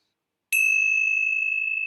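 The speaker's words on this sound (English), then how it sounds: "I'm going to close our time together with the ringing of the bells" A single bell struck once to close a meditation session, ringing out of silence with a sharp clear onset and a long, pure sustained tone that fades slowly.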